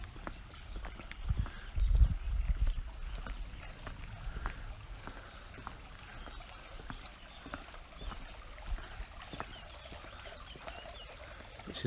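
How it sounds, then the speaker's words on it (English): A garden water feature at Albarda Gardens in Denia trickles steadily outdoors, a faint continuous pouring and dribbling with light clicking drips and a few soft bumps early on. "We come down to the water feature."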